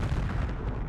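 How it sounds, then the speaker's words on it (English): An airstrike explosion in Doha lands as a brief, heavy, rumbling boom with a dense low roar, loud and close for under a second. "Then came the blast."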